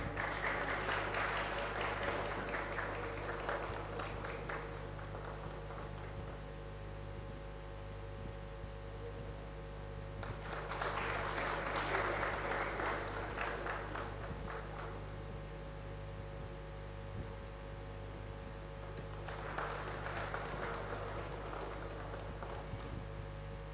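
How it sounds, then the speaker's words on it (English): Faint applause from an audience at a university event in a library, rising and fading in three separate bursts over a steady background hum. "Let's give it a huge round of applause,"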